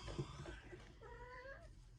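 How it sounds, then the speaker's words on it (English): A cat meows at a door indoors: a single faint, drawn-out meow against a quiet room. "And we got my cat showing up too."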